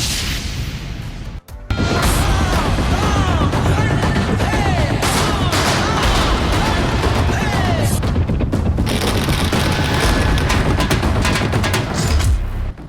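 Firecrackers bursting on a street in Maharashtra during a celebratory procession: dense, rapid volleys of sharp cracks and booms, loud and nearly continuous after a brief opening pause, with crowd noise mixed underneath.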